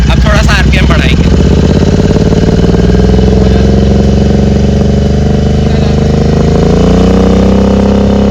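A Royal Enfield GT 650 with a Red Rooster or SC Project aftermarket exhaust idles loudly up close around 1000 to 1500 RPM, a deep steady thrum that rises slightly toward the end, with a brief voice at the start.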